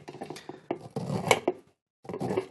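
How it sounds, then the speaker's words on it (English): A knife scrapes corn kernels off the cob onto a metal bundt pan, making clattering, scraping bursts that pause briefly before resuming. "I'm going to try to slice the kernels off of this cob, but I'm going to do it balancing on the center of this bundt pan"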